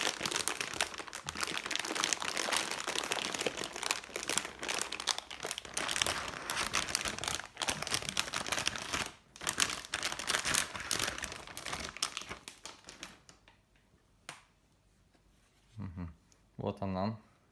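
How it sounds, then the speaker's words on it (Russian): Plastic packaging holding a graphics card, an AORUS GeForce RTX 2080 Xtreme, is torn and crinkled open in a long loud continuous rustle that ends with a few isolated crackles and a short burst of speech. "Сейчас я вскрою пакет уже с нормальной стороны."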